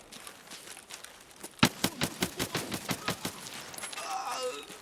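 Single-fire shots from an AK-105 rifle in Escape From Tarkov ring out in a quick, even run of about a dozen loud, sharp cracks, followed by quieter rustling.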